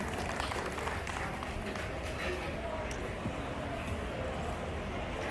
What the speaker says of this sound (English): let's give Jeffrey Welch a round of applause